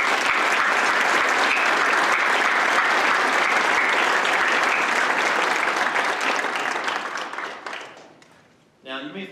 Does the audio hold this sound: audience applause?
yes